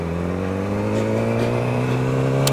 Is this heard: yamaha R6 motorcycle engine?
yes